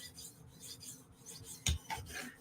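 Steel blade rubbing across a 400 grit half whetstone, a soft rasping scrape repeating in slow strokes, close and fairly quiet, with one sharper scuff partway through.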